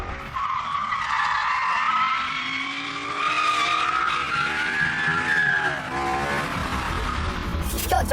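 A car cornering hard on a racing circuit produces a long, loud tire squeal that rises in pitch over a steady engine drone, lasting several seconds before fading out.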